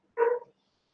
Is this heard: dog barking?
yes